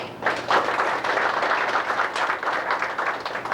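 Audience applause at a 1992 FFA chapter banquet honoring two boys who competed in the finals, a steady moderate wash of clapping lasting several seconds with no talk over it.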